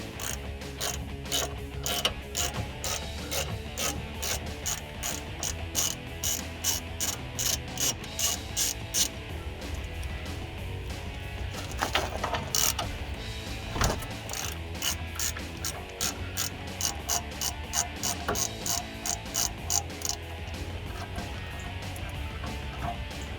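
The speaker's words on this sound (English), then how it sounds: "Now take your 18 and remove the caliper bracket." A ratchet with an 18 mm socket loosens a Silverado 1500 truck's brake caliper bracket bolt, giving a steady run of fast, close metallic clicks that continues through the whole stretch with brief pauses.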